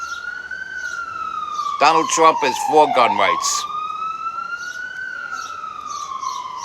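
An ambulance siren wails outside, a steady rising-and-falling tone running continuously at moderate distance while someone talks over it in the middle.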